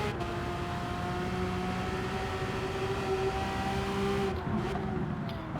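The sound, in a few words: Porsche 911 GT3 RS (992) engine, Gran Turismo 7 video game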